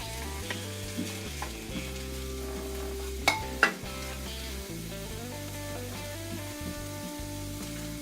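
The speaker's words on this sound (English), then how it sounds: "Now I had the onion in here cooking already for a while," Onion frying in a pan for corned beef hash, a steady soft sizzle with occasional stirring scrapes and a couple of sharp utensil clinks partway through.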